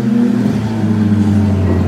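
A two-seater IndyCar rolls in at a race track during a race weekend, giving a loud, steady close engine drone with a low humming tone and no talk over it.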